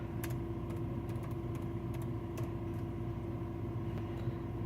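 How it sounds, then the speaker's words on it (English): Computer keyboard typing while entering a surname into a Google search; sparse, faint key clicks sit under a steady, low background hum. "and then just typing in the surname of your family."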